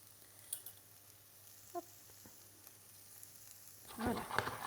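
Straw potatoes frying in a pan with Vacherin Fribourgeois cheese: faint scattered crackles at first, then a louder burst of sizzling near the end as the pan is moved.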